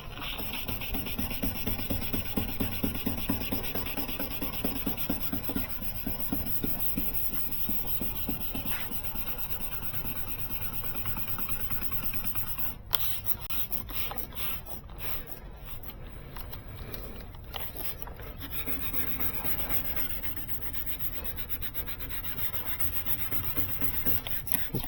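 Wet sanding on a 2006 BMW X5 headlight makes a steady, close, scratchy rasp. Repeated back-and-forth strokes grind against the lens, with short pauses and a few harder scrapes midway.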